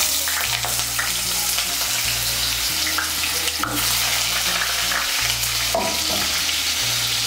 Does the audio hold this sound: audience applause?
no